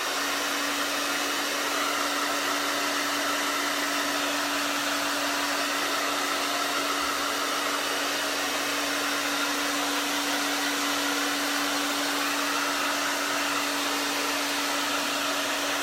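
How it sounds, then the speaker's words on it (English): A hair dryer blows continuously on chalk paste laid over a craft watering can, a steady close whooshing roar with a constant motor hum and no talking. "First, I need to blow dry."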